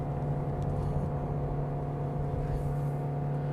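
A Toyota Innova 7-seater MPV engine at 4,500 RPM in third gear with the pedal floored, a steady, strained mechanical drone holding a constant pitch throughout with no talk.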